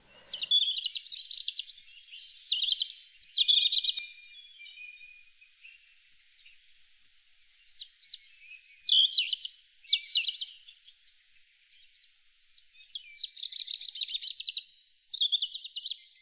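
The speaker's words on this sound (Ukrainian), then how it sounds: "звучить перший заспів вільшанки або малинівки" A European robin sings at dawn in a forest, high, thin, twittering phrases in three separate bursts with quiet pauses between, clear and alone against a silent background.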